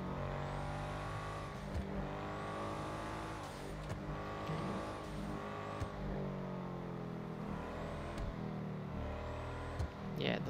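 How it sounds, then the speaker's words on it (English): A Benefactor Schafter LWB armored AMG-style sedan in GTA 5 Online revs hard over and over, each pull climbing in pitch before dropping back, with a faint tire squeal; loud, close and steady for about ten seconds. "Ooh, the sound. The sound is just amazing. I'll shut up for a few seconds to let you hear it."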